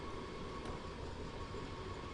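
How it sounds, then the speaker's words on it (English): Train rolling and slowing in Train Sim World 3, a steady low rumble with a faint high whine running through the whole stretch, no distinct clicks or squeals standing out. "I'm trying to slow the train down"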